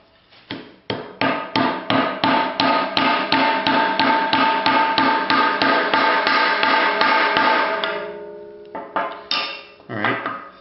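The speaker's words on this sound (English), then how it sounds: "I'm going to try tapping from the bottom with the punch, because this wood is very old" A hammer taps a punch up through an old wooden hammer or axe handle to reach the wedge. About twenty sharp metallic blows ring out in a steady rhythm, then pause briefly before a few more strikes, close and loud.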